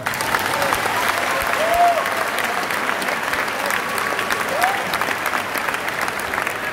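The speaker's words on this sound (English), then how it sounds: "Can someone clap for my dad?" A crowd at a church testimony service claps steadily for several seconds, a dense, even wash of applause heard from within the room, with faint voices and a whoop or two mixed in.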